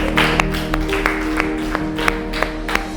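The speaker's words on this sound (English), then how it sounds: "Clapping for you." An audience at a primary five school debate claps steadily for the proposing team, a dense run of hand claps with sharper single claps standing out over a low steady hum.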